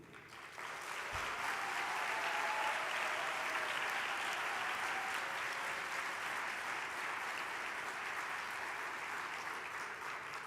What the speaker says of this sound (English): A round of applause for NABJ's founders who are here tonight